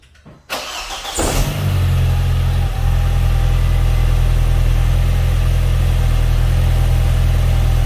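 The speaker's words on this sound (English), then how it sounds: "So let me go ahead and start the car and see if there's any vacuum leak." A 2004 Audi B6 A4 Quattro with the 1.8T engine and 6-speed cranks briefly on the starter, catches, and settles into a loud, steady idle with a deep, even rumble that runs on close to the car.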